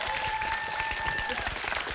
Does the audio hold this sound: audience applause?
yes